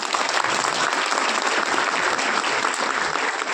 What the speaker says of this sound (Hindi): तो अपने लिए ताली बजा दो ना।